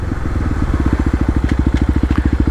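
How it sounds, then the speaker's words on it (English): A Kawasaki KLX250 single-cylinder motorcycle engine runs close and loud in rapid, evenly spaced exhaust pulses that quicken slightly as the throttle is snapped open, with a few sharp crackles over the top. "When I snap on the throttle, that's the main thing I'm looking for."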